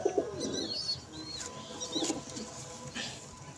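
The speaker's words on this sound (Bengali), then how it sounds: "নর পায়রা এটা বন্ধুরা" A male pigeon coos softly in a small burst at the start and again in short bouts, with faint chirps around it, nearby and fairly quiet with no talk.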